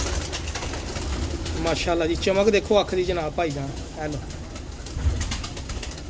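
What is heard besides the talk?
pigeons cooing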